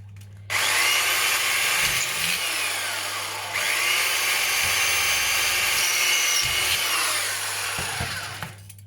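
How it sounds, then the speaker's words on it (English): A power drill whines loudly and steadily as it bores through two layered pieces of tin can, pausing briefly midway before grinding on and then winding down. "I'm going to drill these 2 together like normal"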